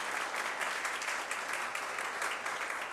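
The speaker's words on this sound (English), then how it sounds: "Now you can applaud again." An audience in the Oklahoma City council chamber applauds steadily after a unanimous vote, a dense, even wash of many hands clapping at close range for the full stretch, with no talking.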